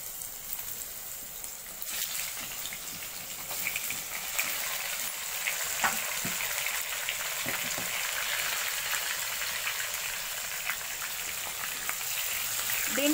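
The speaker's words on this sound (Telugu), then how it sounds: "ఇప్పుడు నేను కట్ చేసి పెట్టుకున్న సొరకాయలు ఉన్నాయి కదండి, ఇవి సొరకాయల ముక్కలన్నీ వేస్తున్నాను" Bottle gourd pieces frying in a pan, a fairly quiet, even crackling sizzle sustained for several seconds, with occasional light clicks and stirring sounds.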